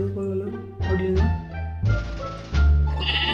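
Minecraft goats let out several loud, wavering bleats one after another, close and clear, with short pauses between calls.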